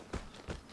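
Two heavy footsteps on grass in a video game, close and distinct, each a dull thud with a soft brushing crunch, spaced about a third of a second apart.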